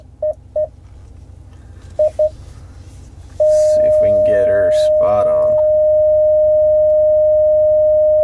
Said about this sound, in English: Sorry for the annoying beeping.